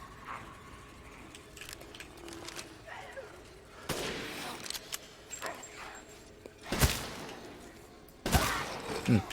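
Shotgun blasts in a zombie shooter game, a few loud, sharp reports spaced irregularly amid scattered game noise, with someone talking over it.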